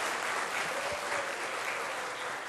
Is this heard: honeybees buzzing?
no